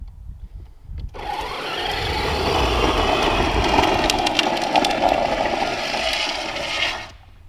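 A Radio Flyer Ultimate Go Kart ride-on toy drives and drifts, its motor whirring in a steady loud rumble with a gritty scraping of wheels sliding on the ground for about six seconds before cutting off, with no talk.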